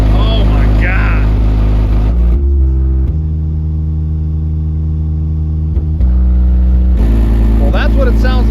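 Deep booming subwoofer bass from a 12-inch Kicker Comp C12 heard outside the car, low thumping tones with voices talking over it at the start and end.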